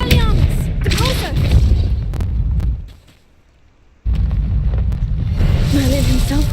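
Magical blasts boom and burst in Hogwarts Legacy: a Depulso spell fires amid loud whooshing game combat, a brief near-silent gap, then more blasts with a voice calling out over the effects.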